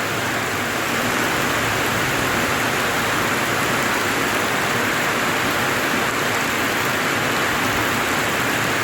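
Heavy rain pours steadily and loudly in a town plaza in Calinog, Iloilo, a dense, unbroken roar filling the whole stretch with no voices.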